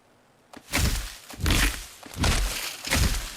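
Thatch pillars are being destroyed in Ark Survival Ascended, producing four loud, heavy thunks in quick succession, each a close, crunchy breaking impact about half a second apart.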